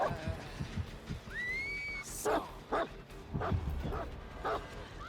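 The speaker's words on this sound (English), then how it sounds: "Oh, that's a good dog." A dog gives a run of short, sharp yips and whimpering barks at a moderate distance, spaced irregularly over a steady background hum with a brief whistling tone between them.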